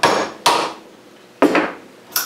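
Sharp wooden chopping strikes as a tool tears chunks out of a quarter-sawn guitar neck blank during rough carving, four loud cracking hits spaced unevenly about a second apart, close up.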